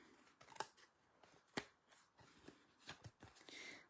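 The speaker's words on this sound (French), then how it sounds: "je vais prendre mes ciseaux et je biseaute." Scissors snip paper in a few short, crisp cuts, close by and fairly quiet, with light rustling between them.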